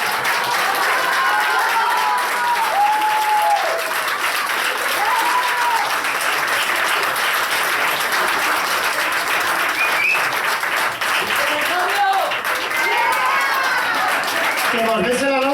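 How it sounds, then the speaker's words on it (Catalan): Theatre audience at a school play about a wedding applauds loudly and continuously, dense clapping filling the whole stretch while voices call out and talk over it. "Tornem a saludar que estan aplaudint més."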